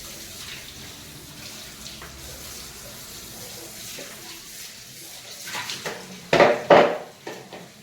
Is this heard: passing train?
no